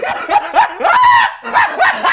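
Several sharp, yappy dog barks and yips in quick bursts, close and loud, with a brief whine between them.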